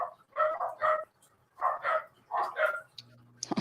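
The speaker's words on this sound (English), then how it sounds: "B Heart, I'm gonna have to let my dogs out" Several dogs bark in short, repeated bursts at moderate distance indoors, with a few pauses between volleys and a faint high squeak near the end.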